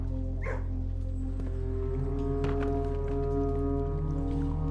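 A dog in a kennel in the video game Blue Prince gives short yips and whimpers over a steady droning hum of game music, moderately close, with no talking.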